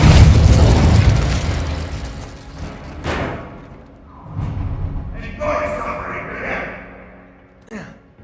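Incendio fire blasts and a Depulso force push go off in Hogwarts Legacy, a heavy roaring burst at the start, then sharp thumps and crackling bursts that swell and fade, with a short voice sound mixed in.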